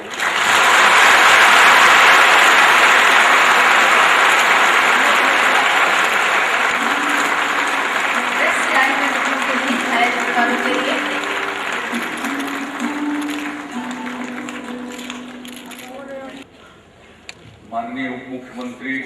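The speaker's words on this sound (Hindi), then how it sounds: "जोरदार तालियां।" A large crowd claps loudly at a formal government ceremony launching a micro-pension scheme, a sustained roar of applause that gradually thins and fades over about twenty seconds.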